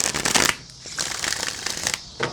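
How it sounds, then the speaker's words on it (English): Rider-Waite tarot cards being shuffled by hand, a crisp riffling burst in the first half second followed by softer intermittent card flutters, close and fairly loud. "Oh, that was a smooth shuffle."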